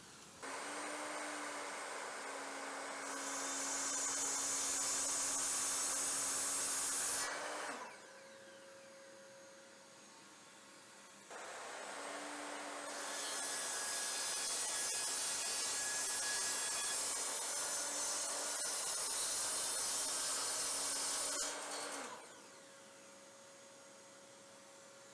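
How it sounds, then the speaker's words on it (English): A miter saw fitted with a Saxton blade makes two loud cuts through plywood, hardwood and laminated chipboard, each time the motor spinning up, the blade screaming through the board for several seconds, then whining down between cuts. "Okay, now it's time to move on to the miter saw. First again, we'll do the Saxton blade."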